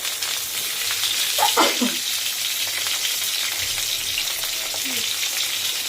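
Pointed gourd pieces frying in hot oil, a continuous crackling sizzle throughout with a couple of spatula scrapes and clinks against the pan.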